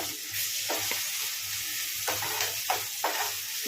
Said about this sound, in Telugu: ఉల్లిపాయలు అయితే మంచిగా వేగుతున్నాయి కదండి